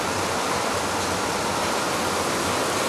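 Heavy monsoon rain pouring down on a dark morning with water pooling on the streets, a dense, loud, unbroken hiss that stays constant throughout, with no voices.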